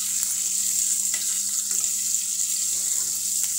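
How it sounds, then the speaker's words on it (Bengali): Eggs frying in oil in a wok with salt and turmeric, a steady bright hiss of sizzling throughout, close and fairly loud with a low hum beneath and a few soft clicks. "চুলায় একটি কড়াই বসিয়ে ওতে তেল দিয়ে ডিমগুলি লবণ হলুদ দিয়ে ভেজে নিচ্ছি লাল লাল করে"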